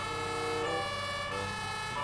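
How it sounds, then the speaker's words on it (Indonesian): Toy ambulance siren wailing continuously with a bright electronic tone, close and steady throughout, no voices over it. "Ini mobil ambulan."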